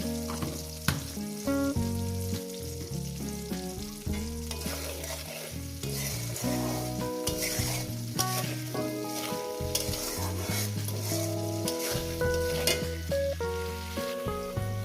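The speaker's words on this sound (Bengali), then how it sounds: "আলুটাকে সুন্দর করে ভেজে নিয়েছি।" Potatoes frying with turmeric and spices in a pan give a steady, close sizzle with stirring throughout, set against a continuous tonal background.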